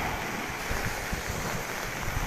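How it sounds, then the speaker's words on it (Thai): Rough sea waves churn during tropical storm Pabuk, heard as a steady, loud wash of surf blended with gusting wind noise on the microphone, with no voices over it. "คลื่นเริ่มเยอะแล้วครับ น้ำเริ่มขึ้นสูงครับคลื่นลูกเริ่มใหญ่ขึ้นแล้ว"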